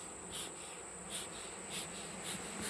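Honeybees in an open nuc hive give a steady, soft insect drone clustered on brood frames, with a faint high whine running throughout and gentle swells every half second or so, no voices.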